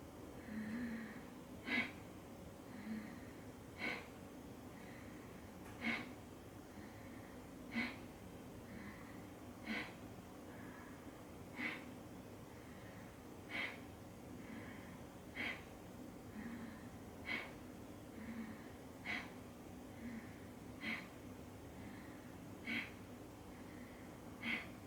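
Rhythmic yoga breathing during a core workout, with sharp, regular exhalations roughly every second or two, soft and close, with no talking.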